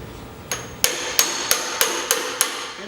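Hammer blows on a manual impact driver loosening a screw on a Harley-Davidson motorcycle chassis: seven sharp metallic strikes in a steady rhythm, close and loud over a low background hum, with no talking.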